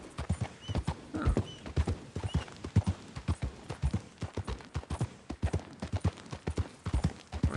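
Horse hooves clip-clop steadily at a riding pace in Red Dead Redemption 2, a brisk, even rhythm of close, clear hoofbeats running the whole stretch, with a brief whinny-like sound mixed in and no talking.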